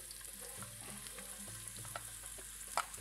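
Onion frying in oil gives a soft, continuous sizzle with small scattered crackles and pops, fairly quiet and close, with no voices.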